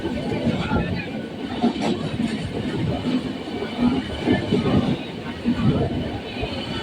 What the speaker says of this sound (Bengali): আমাদের পাশের লাইন দিয়ে বেরিয়ে যাচ্ছে হাওড়া গুয়াহাটি এক্সপ্রেস